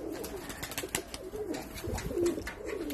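Domestic dönek tumbler pigeons cooing close by, soft low rolling coos repeating over faint wing flutters and ambient noise.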